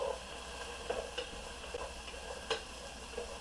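Onions frying in a pan for Thai coconut milk soup, a steady close sizzle with light ticking stirs of a utensil against the pan at intervals.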